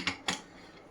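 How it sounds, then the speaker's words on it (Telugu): Two quick metallic clacks sound as a lid is placed and locked onto a kitchen pressure cooker holding a flat bean curry, close and sharp, followed by quiet. "కుక్కర్ మూత పెట్టిన తర్వాత"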